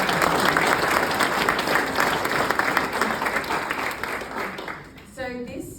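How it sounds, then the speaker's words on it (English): Conference audience at an opening keynote giving a big round of applause, a loud sustained wash of clapping that fades near the end as a voice begins. "So if we could just have a big round of applause"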